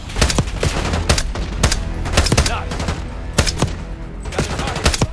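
Rapid gunfire in the Call of Duty: Black Ops 6 video game, with dense bursts of close, loud shots cracking in an irregular rhythm throughout and no voices over them.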